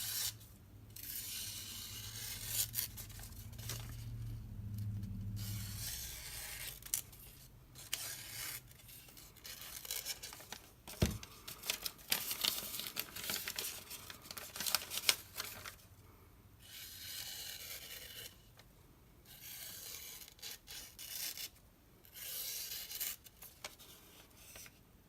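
Bark River Bravo knife with a toothy edge slicing through thin, slightly damp paper, repeated soft rasping and tearing strokes in bursts with brief pauses, close and fairly quiet.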